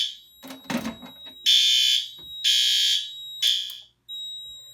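A newly installed fire alarm system sounds during a test, giving three loud, shrill electronic horn blasts of roughly half a second each with short gaps, then a fourth starting, after a brief burst of handling noise.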